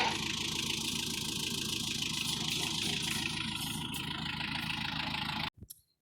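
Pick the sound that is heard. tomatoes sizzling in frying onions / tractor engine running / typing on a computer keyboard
tractor engine running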